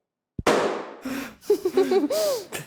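A sharp bang opens into a roaring, crackling blast, followed by tonal whooshing swoops, loud and close.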